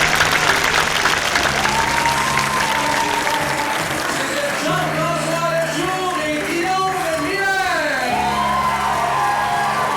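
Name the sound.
audience applause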